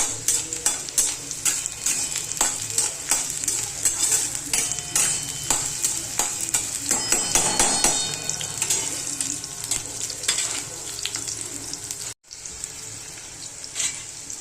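Dal and tempering being sautéed in hot oil in a pan for an onion vegetable dish, steady sizzling with repeated stirring scrapes, close and continuous, briefly cutting out near the end before resuming.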